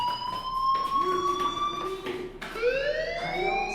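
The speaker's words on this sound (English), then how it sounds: "Hey, do you hear that fire alarm?" A fire alarm rings in the Life Is Strange video game, a loud sustained electronic siren tone with rising sweeps and harmonics, wailing continuously and restarting partway through.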